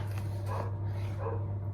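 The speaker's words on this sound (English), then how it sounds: "So you might be able to hear a dog." A neighbour's dog barks faintly somewhere down the road, two distant, muffled barks heard through open windows over a steady kitchen hum while dinner is being made.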